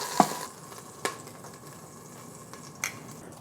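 Beef ribs sear in a pot with a soft, steady sizzle, broken by a few sharp pops and clicks from the pan, close but fairly quiet.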